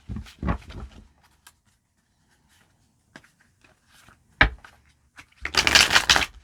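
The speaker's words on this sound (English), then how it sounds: "Okay, so just two more shuffles." Cards riffled and shuffled nearby in short bursts with pauses, ending in a longer, louder riffle.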